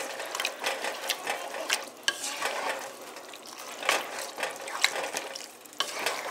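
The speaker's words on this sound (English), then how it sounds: "So we're just mixing that up." White chicken chili gets stirred in a pot, with repeated scraping strokes of a spoon against the metal, soft clinks and a faint sizzle underneath, close and fairly quiet.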